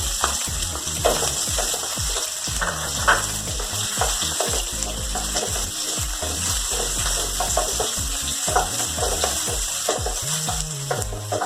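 Chopped onions sizzle and fry in a pan with garlic, scraped and stirred in steady strokes that knock against the pan, a continuous close hiss under the stirring with no talking.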